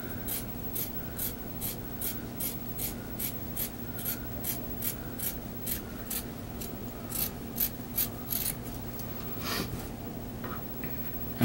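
Scissors cutting along a fold in fabric, a steady rhythmic series of short crisp snips, roughly two per second, close and fairly quiet, with no talking.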